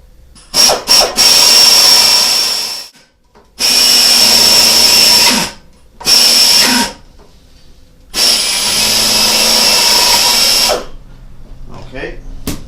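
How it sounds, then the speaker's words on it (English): A power drill bores out a crack in metal, whining loud and close in four bursts separated by short silences, with a faint squeal at the edges. "we'll go ahead and we'll drill this one out"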